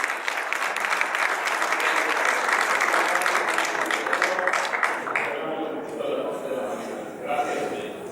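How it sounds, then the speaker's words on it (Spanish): Audience applause at an academic round table on physical education, loud sustained clapping that fills the room and then thins out near the end as a voice begins speaking. "fuerte el aplauso."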